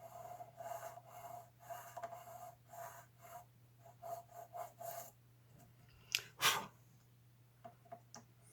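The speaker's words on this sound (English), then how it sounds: "So I'm just kind of angling my nut file to follow that angle" Repeated short rasping strokes of a nut file across a guitar nut during a setup, each stroke close and quiet in an even back-and-forth rhythm, with a brief louder scrape near the end.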